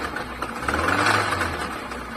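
A Nissan CR14DE car engine with a knocking fault runs steadily at idle, a dense mechanical drone with a low hum that swells slightly midway, heard up close with no voices.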